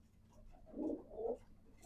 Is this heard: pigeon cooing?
yes